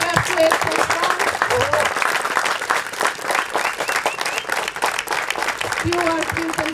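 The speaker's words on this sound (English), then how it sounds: "Let's give a big applause to the referees, because without them, we would not have a single game." Crowd applause for the referees at a blind football tournament, steady and dense clapping lasting throughout, close-miked and fairly loud, with an announcer's voice talking over it.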